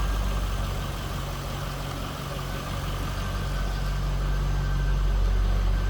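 A 2003 Chevrolet Corvette 50th Anniversary convertible idles steadily nearby, a low, even rumble with a constant hum and no revving.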